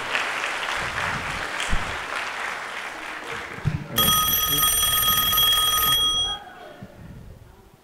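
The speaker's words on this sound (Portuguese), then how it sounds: "Salve de palmas pro nosso..." A theatre audience at a comic hypnosis show claps loudly, then a telephone starts ringing with a bright electronic tone over the applause before both cut out, leaving quieter room noise.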